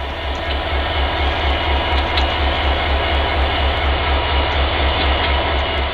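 A diesel locomotive train idles or runs loud and close, heading downgrade on the Buckley sub. The deep engine drone is continuous and pulsing, with a steady rumble and faint higher hiss over it.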